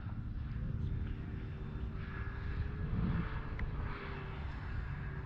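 An E-Flite Cirrus SR22T RC airplane on a 3S battery throttles up, its electric motor and propeller giving a steady, moderately loud whine that rises slightly in pitch, with no talk.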